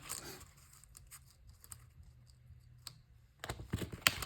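Scissors snip through paper pieces for a K-Cup carrier craft, a few quiet, scattered clicks and cuts close by, ending in a louder burst of rustling and snipping.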